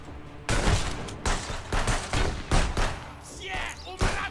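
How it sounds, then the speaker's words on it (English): Enemy gunfire in the video game Contraband Police: loud, close bursts of rapid shots in repeated volleys with short gaps, and someone talking between them. "he's shooting me now"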